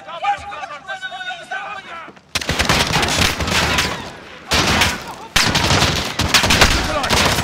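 Gunfire in the video game Call of Duty Modern Warfare 2019: dense bursts of loud shots and fusillades after a quieter opening with music-like tones, the firing breaking off briefly twice before resuming, with game voices mixed in.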